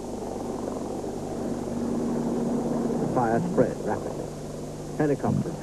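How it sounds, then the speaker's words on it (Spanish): A steady low mechanical drone, like a distant helicopter or aircraft engine, hums throughout while a voice speaks over it in short bursts. "Los helicópteros llegaban al rescate."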